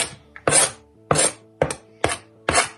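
Five sharp, evenly spaced chops of a knife cutting food on a cutting board while preparing shashlik, close up, with a low steady hum underneath.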